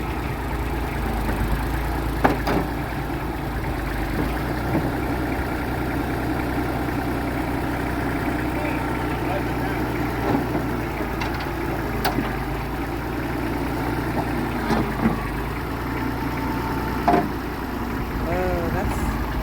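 A tractor engine idles steadily through the whole stretch while a 400-pound cast iron wood burner is moved on a cart, a low continuous rumble with occasional knocks and faint voices underneath.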